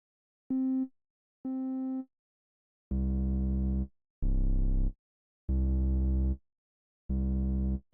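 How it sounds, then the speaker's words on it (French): Distorted synth sub bass for a Naruto Shippuden remix, heard as six separate held notes with gaps between them. The first two are thinner and tonal, and the rest are heavier, buzzy and saturated. "Il faut que je prenne une grosse sub comme ça"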